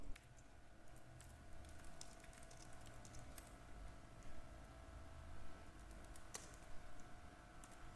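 Typing on a computer keyboard while entering spreadsheet formulas, with soft, scattered key clicks at low level over a quiet background hum.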